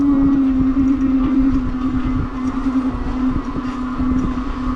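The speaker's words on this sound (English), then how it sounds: "I'm really letting the motor do most of this work" Sixthreezero Rickshaw electric tricycle's motor pulling up a steep section in first gear, a steady close electric whine with a low rumble of wheels and rattling over the ground, no voices.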